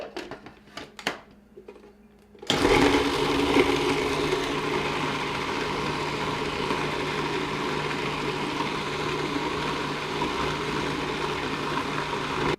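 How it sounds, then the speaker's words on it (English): An electric mixer whirs through carrot cake batter with ripe avocado. A little quiet clatter comes first, then the motor kicks in and holds a loud, steady drone for about ten seconds. "I'm going to go ahead and mix this much together now."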